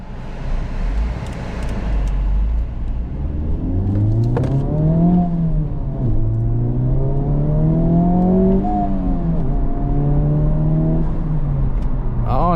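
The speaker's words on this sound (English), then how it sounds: "it's got a little blow-off valve" A 2023 Honda Civic Type R engine revs up and down several times from inside the cabin, steady rising and falling tones with rev matching on downshifts and a short blow-off valve whoosh near the end, loud and close.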